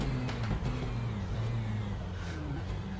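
The Mazda 787B Le Mans race car with its rotary engine runs at the Monza circuit: a loud, close, continuous engine drone with a shifting pitch as it revs, heard alone without voices.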